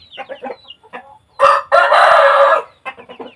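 Chickens grazing on grass outdoors on a warm afternoon cluck in short bursts close by, broken by one loud, drawn-out rooster crow, with no talking.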